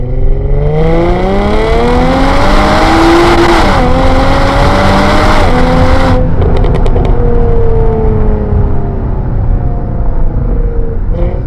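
A Stage 4 tuned V6 Jaguar F-Type with over 550 horsepower accelerates hard through the gears, its loud close engine note climbing steadily with brief dips at each upshift, then a crackle as the revs drop away.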